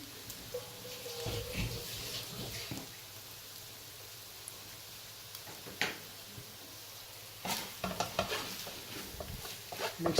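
Raw beef being mixed by hand with salt and pepper powder, soft wet squelches and stirring scrapes arriving in irregular clusters, quiet and close with pauses between bursts.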